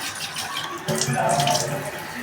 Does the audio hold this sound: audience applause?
no